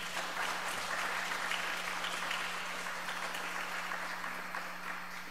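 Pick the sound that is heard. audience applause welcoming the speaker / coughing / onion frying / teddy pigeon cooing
audience applause welcoming the speaker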